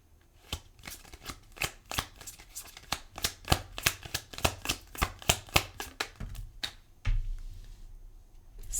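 Tarot cards shuffled in a quick, regular run of crisp riffling snaps, ending with a softer rustle as a card is drawn, all close up and without talk.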